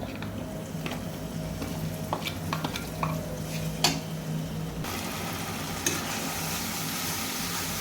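Spices with coriander powder, ginger and a few shrimp are stirred and fried in a pan, a low, steady sizzle under repeated spatula scrapes and occasional sharp clicks on the metal.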